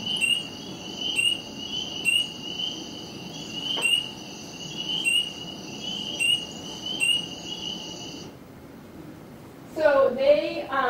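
A played recording of spring peeper frogs in a swamp, with repeated high, shrill peeps in a steady rhythm at about one-second intervals over a faint chorus, followed by a person speaking.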